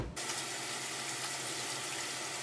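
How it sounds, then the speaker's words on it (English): Tap water running steadily into a sink while hands are washed before cooking lentils, a close, even splashing rush that starts abruptly and continues alone. "First things first, you're gonna wash your hands, hopefully."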